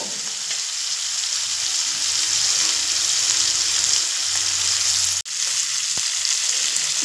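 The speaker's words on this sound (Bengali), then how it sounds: "দেখুন এবার চিংড়ি মাছটা 3 থেকে 4 মিনিট মতো মিডিয়াম ফ্লেমে ভেজে নেব।" Shrimp fry in oil over a medium flame, a loud, constant hiss of sizzling that runs without a break, with one brief sharp knock near the end.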